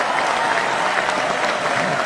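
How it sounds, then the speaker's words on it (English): A radio studio audience gives a guest a round of applause, a dense burst of steady clapping close and loud throughout. "We'll give Chris another big round of applause."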